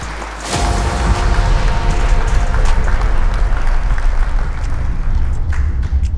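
An audience at a youth leadership summit breaks into sustained, loud applause. The clapping starts abruptly after a half-second lull and holds evenly to the end.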